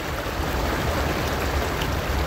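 Floodwater after heavy rain in Barras, Piauí, in the Brazilian northeast, rushes past as a steady, loud, broadband torrent with no pauses, sounding close and continuous.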